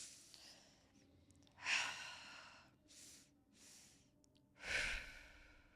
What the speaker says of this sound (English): I do the Wim Hof breathing.